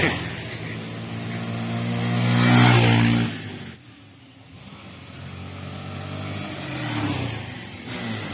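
Motorbikes revving and racing along a hilly road with houses on the slopes, the engine noise swelling loud mid-clip, fading, then rising again, with a busy roadside background.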